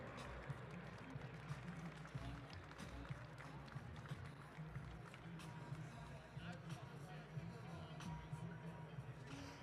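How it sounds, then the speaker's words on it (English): Applause and crowd noise after winners of a Semi-Pro 80 lap Madison track cycling race are announced, a dense, steady wash of clapping with a voice speaking over it. "Round of applause for all these racers in Team Yellow."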